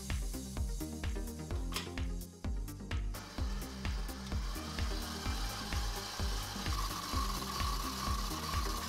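Stand mixer paddle creaming butter for a New York baked cheesecake, a steady rhythmic mechanical whir with repeated clunks as the paddle turns, close and continuous with no talk.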